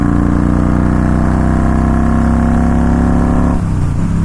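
Yamaha 950 motorcycle engine revs hard in top gear, a loud, steady, rising drone held close by, then suddenly cut off near the end.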